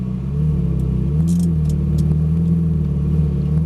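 A Ferrari 458 Italia pulls forward on a track, its engine holding a loud, steady low rumble at modest revs with a slight rise in pitch, close by and without speech.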